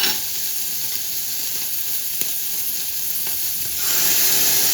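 Ginger and garlic paste sizzles in a pan with butter and onion for pav bhaji, a steady loud frying hiss that swells slightly near the end, with no talking.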